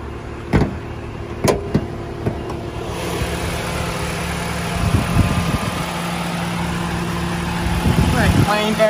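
A 2014 Mitsubishi Lancer GSR engine idles steadily with the bonnet open, giving a smooth, even hum with a few sharp clicks near the start and soft thumps later on.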